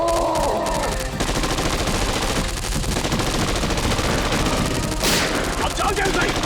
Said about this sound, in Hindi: इसकी आंखों में गोलियां मारते रहना